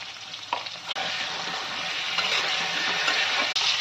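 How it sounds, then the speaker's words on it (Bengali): Pointed gourd frying in hot oil with salt and turmeric, giving a steady, close sizzle and crackle that holds for the whole stretch, with brief stirring scrapes and no voices. "নুন হলুদ দিয়ে পটলটাকে ভেজে নিচ্ছি।"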